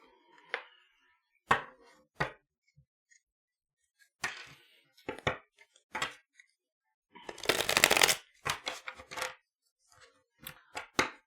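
Tarot cards being shuffled and gathered into a deck: sharp riffling bursts and brisk taps of the cards, one long dense riffle near the middle, separated by quiet pauses, close and without speech.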